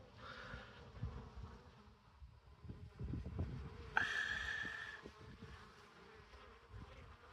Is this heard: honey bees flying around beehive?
yes